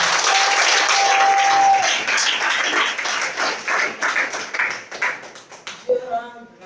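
Church congregation clapping and applauding, loud dense applause that thins into scattered claps and fades, with voices in the room.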